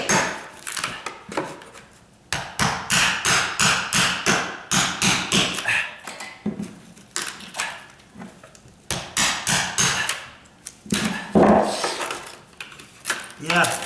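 A hammer taps a chisel into a wood subfloor during a condo renovation, landing quick runs of sharp, close strikes separated by short pauses, with a person talking between and over the blows.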